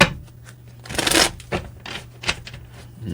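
Tarot cards are shuffled by hand in a few quick, crisp riffling bursts with brief pauses between them, close and clear.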